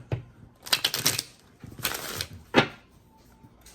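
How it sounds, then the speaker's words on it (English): Tarot cards being shuffled by hand, three or four quick papery riffling bursts separated by short pauses, close and moderately loud, with no talk. "So I'm thinking one more shuffle here for Aries."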